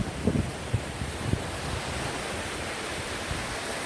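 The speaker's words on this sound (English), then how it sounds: "I love the sound of the waves too. They're so comforting, relaxing." Ocean surf rolls onto the beach at Port Maitland, Nova Scotia, as a soft, continuous wash of waves. A few light knocks are near the start, with no voices.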